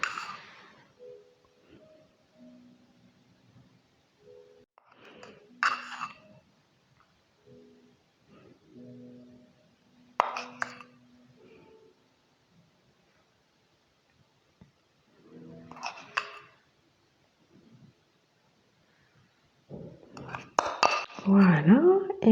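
A spoon spreading glaze over a vegan rolled brioche in a dish, several separate bursts of metallic scraping and clinking between quiet pauses.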